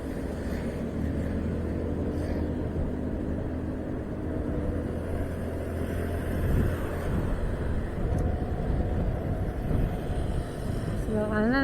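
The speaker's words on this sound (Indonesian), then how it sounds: "Banyak truk yang melintas." Trucks pass along a quiet road on the Jonggol–Cariu route toward Bandung, heard as a continuous close rumble of engines and tyres that rises and falls gently as vehicles go by, with faint voices in the background.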